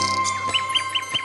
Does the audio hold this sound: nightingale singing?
yes